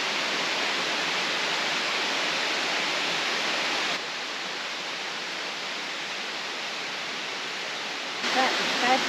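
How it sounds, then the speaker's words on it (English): A waterfall in the Otways forest of Victoria roars as a dense, steady rush of falling water, heard close and unbroken throughout, with only a slight change in level partway through. "That's a waterfall."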